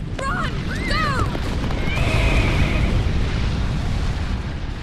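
A horse whinnies in rising and falling cries during an eruption in Pompeii, partly covered by a loud continuous rumble that drowns out most other sound.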